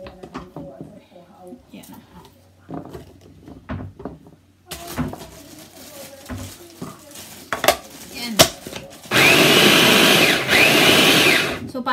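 Electric food chopper whirring loudly as it chops garlic and onion in a home kitchen, a steady high buzz lasting a few seconds after clattering of dishes and lid handling, with someone talking before it starts.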